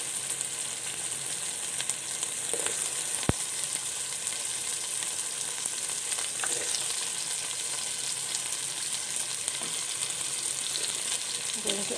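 Potatoes and tomato fry in a pan with a continuous moderate sizzle and faint scattered crackles, a single sharp clink partway through, no voices.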